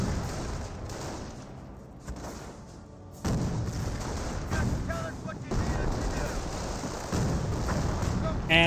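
Mortar fire in the World War II strategy game Company of Heroes, several heavy booming shots and blasts landing in a loud rumbling battle mix, with bursts of gunfire and a commentator talking throughout.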